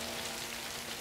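Dense, even patter of rain, steady and moderately loud, with no other sounds.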